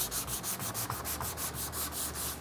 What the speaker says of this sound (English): I'm just gonna take a sanding block and go ahead and sand that all down so that everything is flush.